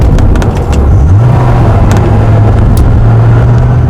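A Dodge Viper's engine rumbles while driving, a loud, deep, continuous drone that steps up in pitch once as it picks up speed, with faint ticks and rattles on top.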